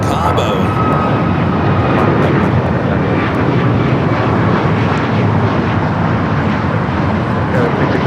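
An airliner takes off from runway 25 right at Los Angeles International Airport, its engines a loud, continuous broadband roar filling the scene throughout.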